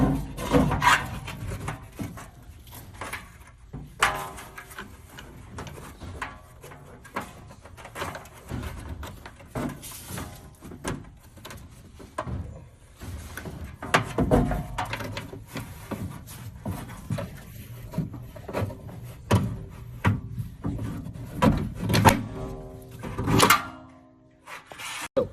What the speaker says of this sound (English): now that we oiled up our cable, we're going to be feeding it back in